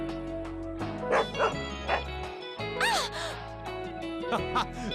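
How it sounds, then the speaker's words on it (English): Dog in the Trauma Center: New Blood video game, several sharp barks and yips with a whimpering whine, set over a steady musical backdrop, close and moderately loud. "She's a smart dog, she won't bite."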